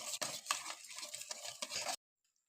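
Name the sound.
stirring ginger juice into a mixture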